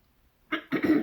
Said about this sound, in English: I don't know what the hell I'm coughing and burping for